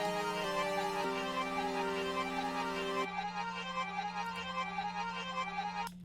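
Layered synth melodies in Ableton, a modular chord under a bright marimba preset, with stepped sustained chords and plucky melodic notes playing together, then the chord dropping away while the marimba-like line continues.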